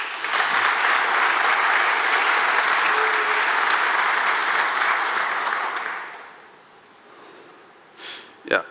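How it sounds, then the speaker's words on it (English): Conference audience applause at a developer community event, a loud, full round of clapping that holds for about six seconds, then fades, leaving a few breaths and small noises near the mic. "please give them a round of applause."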